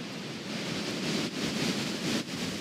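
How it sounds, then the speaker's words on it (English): Gusty outdoor wind by a woodland cottage in springtime buffets the microphone with a steady, rushing roar that surges in a few strong swells, with no talking. "Although it is quite windy, so sorry if you can't fully hear me."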